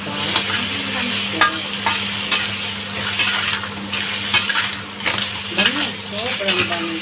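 Crab with scallions being stirred in a pan, a steady sizzle of frying under repeated scraping and clinking of a utensil against the cookware, close and continuous.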